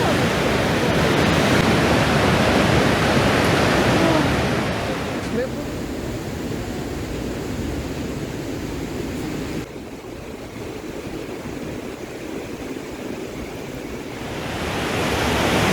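Waterfall at Yaremche, a loud continuous roar of rushing water close by that eases to a softer, more distant wash midway and swells again near the end, with no clear talking over it.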